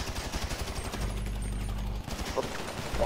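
GTA V gunfire aimed at a supply box comes in a quick burst of shots, then a low sustained rumble, and then scattered further pops, all fairly quiet.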